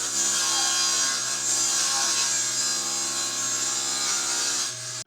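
Wood being ripped into strips for a shop air cleaner, a continuous loud sawing drone with steady grinding texture that runs unbroken for several seconds before stopping abruptly at the end.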